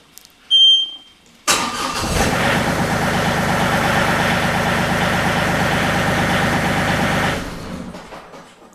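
A John Deere 2032R tractor with a relocated ignition switch clicks once, then its engine cranks and catches into a steady, close diesel idle lasting several seconds before cutting off abruptly.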